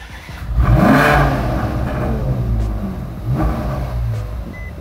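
A Ferrari California supercar engine starts with a loud cranking burst, then rises into a rev and settles into a steady, rumbling idle, with a second revving swell near the end, close to the car.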